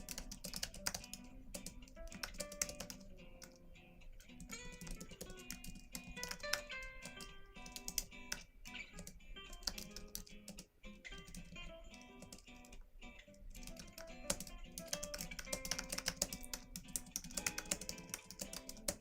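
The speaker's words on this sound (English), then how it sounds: "I really am going to finish typing this" Someone types steadily on a computer keyboard at a writing session, with quick irregular key clicks and occasional bursts running throughout, fairly quiet, over a faint tonal background.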